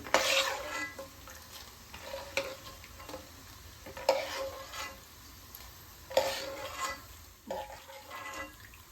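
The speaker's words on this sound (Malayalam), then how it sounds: "ബാക്കിയുള്ള കപ്പലണ്ടി ഇതേപോലെ വറുത്തെടുക്കാം" Spiced groundnut pakoda frying and stirring in a pan, with a steady sizzle and intermittent scraping strokes of a utensil, close by and without talk.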